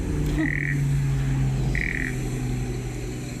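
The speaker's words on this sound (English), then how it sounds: "You can hear the frogs calling." Frogs call in short bursts twice at a waterhole over a steady low hum of background noise, with a faint chirp early on.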